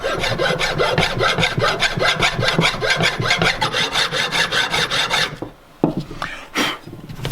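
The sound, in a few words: long file rubbing powder coating off Ford Escort brake caliper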